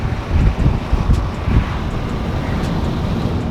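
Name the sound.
normal wind noise inside Toyota Supra while accelerating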